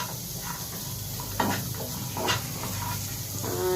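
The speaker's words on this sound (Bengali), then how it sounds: "গাজর ভাজা হচ্ছে আর এদিকে কাজু কিশমিশ ভাজা চলছে" Carrots frying in one pan while cashews and raisins fry in another, giving a steady soft sizzle and hiss with occasional light stirring scrapes, close by and without talk.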